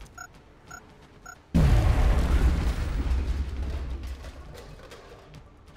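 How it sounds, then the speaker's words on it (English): Grenade explosion in XCOM: Enemy Unknown, one loud, close boom that bursts suddenly after a few soft interface beeps, then a long rumbling decay fading over several seconds. "This is a good grenade."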